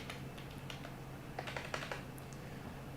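Computer keyboard typing, quiet clusters of quick key clicks with short pauses, steady and close over a low hum, no talking.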